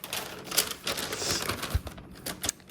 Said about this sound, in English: So in fact, let's load a piece of paper.